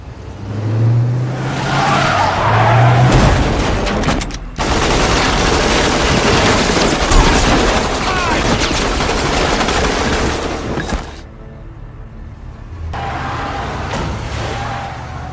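Film scene of a man in a car being shot: bursts of rapid gunfire crackle loudly over engine and skidding noise, broken by brief pauses and a final volley.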